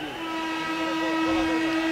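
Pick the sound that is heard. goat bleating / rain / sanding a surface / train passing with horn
train passing with horn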